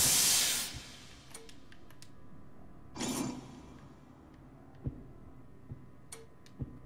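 Steam hissing in the Monstrum horror video game: two loud, short breathy bursts, then faint scattered ticks and clicks in a quiet room.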